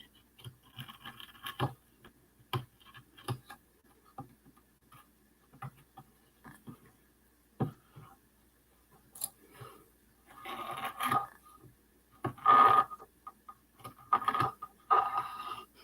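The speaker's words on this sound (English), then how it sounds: "I'll get my X-Acto knife here and I am going to cut it a little bit" Scrapes and light cuts from an X-Acto knife drawn through paper during Easter decoupage crafting, in scattered soft strokes with a denser burst of cutting near the end, close and fairly quiet.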